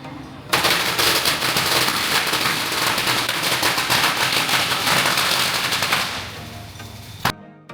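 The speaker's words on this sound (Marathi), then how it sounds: "पर्यटक येथे चांगले नशीब मिळवण्यासाठी फटाके फोडण्याच्या विधीमध्येही भाग घेऊ शकतात." Firecrackers set off in a good-luck ritual at Wat Chalong temple in Phuket, Thailand, making a dense, loud, continuous volley of rapid crackling bangs that lasts several seconds before tapering off and cutting out.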